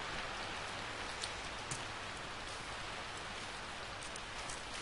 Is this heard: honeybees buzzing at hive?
no